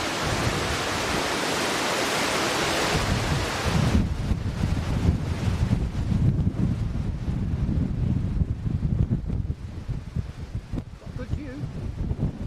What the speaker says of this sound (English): it is blowing a gale up here